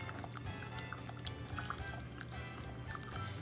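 Seasoning blend or bouillon being mixed into warm water for a vegan Mexican hominy stew, a steady low watery swirl and faint clinking running continuously and close by, with no talk.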